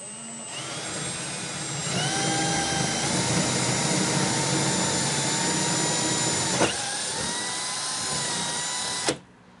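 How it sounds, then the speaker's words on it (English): A power drill bores into a carbon fibre front splitter for a widebody Alfa Romeo Giulietta, spinning up into a loud, steady high whine for several seconds, with a brief pause and a final burst before cutting off. "Do I just drill it? Yeah, let's just drill it."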